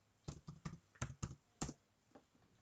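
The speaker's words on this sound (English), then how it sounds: "I'll just type in R download" Keys on a computer keyboard tapped in a quick burst of about seven clicks, close and clear, then a few softer taps trailing off.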